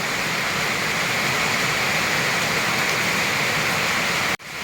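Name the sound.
heavy rain pouring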